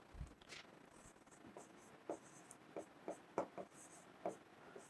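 Chalk or marker writing on a board during a geography lesson in a classroom, faint scratchy strokes and taps in short irregular bursts, quiet and a little distant, with no talk over them.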